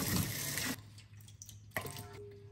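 Kitchen tap running while fruit is washed, a close, bright rush of water that stops briefly and then flows again with splashing.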